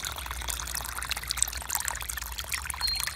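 Water pours into a hole in the soil along a road or trail, a close, steady trickling and splashing stream that carries on throughout with no voices.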